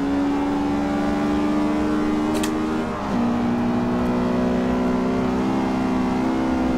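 A Honda Civic Type R EK9 with a B16B engine in Forza Horizon 2 holds a loud, high-revving drone, dips briefly on a gear change, then climbs again under steady acceleration.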